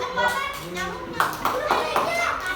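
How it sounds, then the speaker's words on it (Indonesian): A classroom claps for group 4, a few short bursts of hand clapping close by, mixed in with children's and adults' voices talking over and between the claps. "Tepuk tangan untuk kelompok 4."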